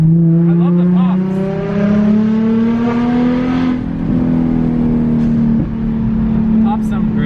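A loud, modified Nissan 350Z exhaust drones and climbs in pitch as the engine revs up close, with a few sharp pops and crackles breaking through the steady roar.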